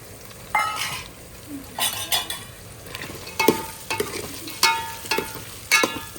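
Sola beans tipped into brinjal frying in hot oil, a run of sharp sizzling bursts and spoon scrapes against the pan repeating every second or so, close up with no talk.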